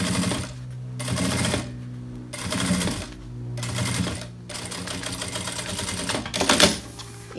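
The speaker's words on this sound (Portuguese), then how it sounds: "E vou costurar também aqui o meu forro." A sewing machine stitches the side seam of a bag lining in several sustained whirring runs with short pauses between them, close and steady.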